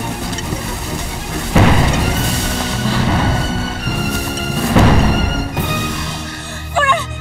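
Artillery cannon fire from a Chinese wartime drama comes as two heavy, distant booms a few seconds apart. Each rumbles and fades over a low, steady background.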